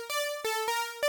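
A simple Serum 2 synth patch with two saw wave oscillators and no unison plays a short sequence of bright, buzzy sustained notes, three or four distinct pitches with sharp attacks, clean and dry with no talk.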